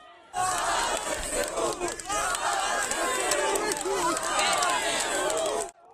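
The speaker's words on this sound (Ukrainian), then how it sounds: "На центральній площі зібралися місцеві жителі, вивісили українські прапори та зустрічають героїв." A large crowd of Kherson residents on the central square, waving Ukrainian flags, greets Ukrainian soldiers with loud, continuous cheering and chanting that lasts about five seconds before cutting off.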